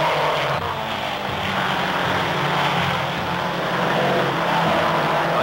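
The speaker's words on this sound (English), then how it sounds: "the big boats knife through the water, their powerful engines kicking up spray" Big racing speedboats run at full speed, their powerful engines roaring in a loud, continuous, rough drone with wavering pitch throughout, no talking over it.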